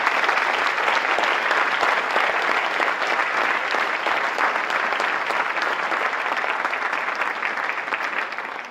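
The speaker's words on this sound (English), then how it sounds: "Let's applaud them for being such an amazing role model." Sustained applause from a luncheon audience honoring fathers at a 2014 Faces of Fatherhood event, a dense, even wash of clapping that stays loud and steady throughout.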